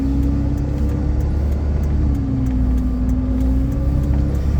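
A car drives along a town street toward a turn, with a steady engine and road hum from inside the cabin. The drone stays even and continuous, and nobody speaks.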